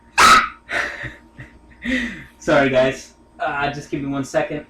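A pet dog at home gives short barks and yips that are mixed in with someone talking close by, so the dog is partly masked under his voice.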